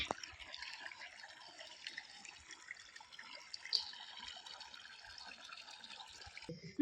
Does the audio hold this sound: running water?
yes